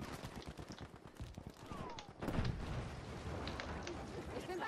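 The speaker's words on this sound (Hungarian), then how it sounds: "Na, itt már lövöldöznek." Gunfire in the World War II shooter Battlefield V, rapid shots crackling at mid distance with a heavier burst after a couple of seconds, mixed with game noise and voices talking.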